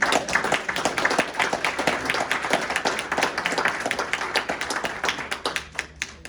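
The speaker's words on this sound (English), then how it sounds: "let's just give them a round of applause" An audience at the end of a client talk claps in a sustained round of applause, dense and fairly close, with sharp individual hand claps standing out as it tapers.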